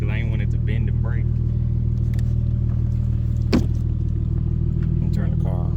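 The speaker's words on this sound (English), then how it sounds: "And turn the car" A Dodge Charger engine idles with a steady, close, low rumble throughout, while people talk nearby over it.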